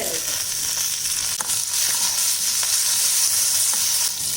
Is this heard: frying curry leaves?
yes